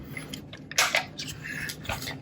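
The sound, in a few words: Kodak Instamatic 100 camera clicking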